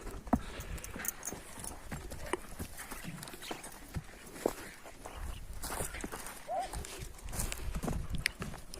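Hooves of a horse for sale clip-clopping at a walk, steady irregular knocks close by with outdoor background noise, a voice talking intermittently over them.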